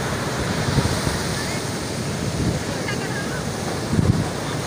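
Sea waves wash onto Sandspit Beach in a steady loud roar with heavy wind buffeting the microphone and swells peaking now and then.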